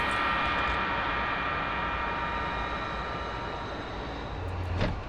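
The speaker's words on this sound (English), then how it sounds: "I love the sound of that engine" F-4E Phantom jet engine in the DCS flight simulator game, a continuous broadband roar with a high whine on top, steady and fairly close, with no talking over it.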